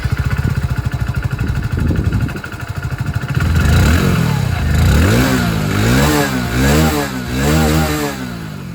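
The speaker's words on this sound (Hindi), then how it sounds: "अब एग्जॉस्ट साउंड जो वो मैं आप लोग को सुना देता हूँ। सबसे पहले स्टार्ट करते हैं विद पैशन" A Hero Passion Plus motorcycle runs nearby, idling with a steady exhaust thump before being revved several times in rising and falling bursts, loud and close with no talking.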